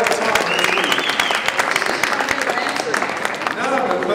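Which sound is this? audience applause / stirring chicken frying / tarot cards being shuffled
audience applause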